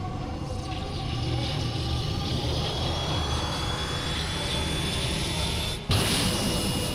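A spaceship's engines roar steadily in a Final Fantasy game, a broad jet-like whine that rises in pitch, briefly cuts out near the end, then surges back loudly, with no talk.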